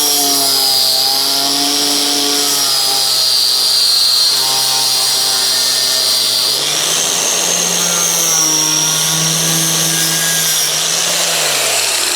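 An angle grinder cuts through the trim of an old 1980s camper, a loud continuous whine that holds steady and then shifts pitch partway through as the load on the disc changes, with no voices.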